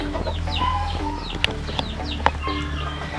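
Native hens cluck in short repeated bursts close by, with a few sharp clicks and knocks mixed in, and no talking.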